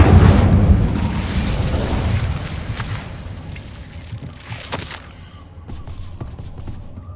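A fire spell cast in a Hogwarts video game bursts with a loud, broad whoosh and boom at the start, then fades into lower rumbling, with a few smaller pops and crackles later.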